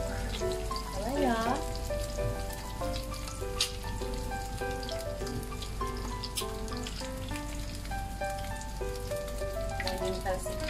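An egg frying in hot oil gives a steady crackling sizzle beneath bright melodic background music, continuous throughout.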